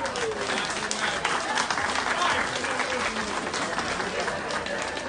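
An outdoor crowd at a Romanian folk festival in the mountains applauds a local mountain resident, dense continuous clapping filling the scene from start to finish.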